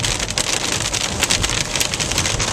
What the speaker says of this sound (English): As you can hear the rain dropping.